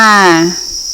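A loud, close, steady high-pitched chirp from crickets in a rearing pit rings throughout, with a brief harmonic buzz at the start.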